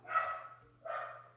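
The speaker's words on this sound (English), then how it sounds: "oh, sorry about the dogs." Two short barks from a dog indoors, fairly faint and slightly distant, separated by a brief pause.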